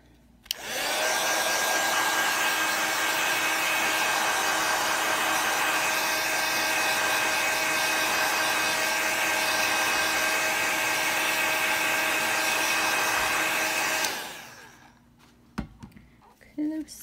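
A heat tool blows hot air to dry a mixed media card, giving a loud, steady whooshing roar that runs unbroken for about thirteen seconds before cutting off into quiet tapping.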